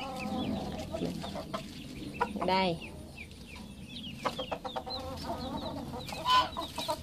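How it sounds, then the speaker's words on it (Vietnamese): Newly hatched chicks and young chickens chirp and cluck in short, repeated bursts close by, while a person speaks briefly between the calls. "đó, ừ, con gà tơ nhỉ"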